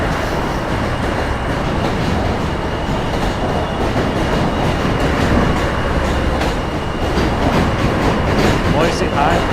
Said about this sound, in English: Another M train.